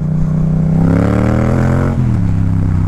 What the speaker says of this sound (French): Accélérer, passer les rapports.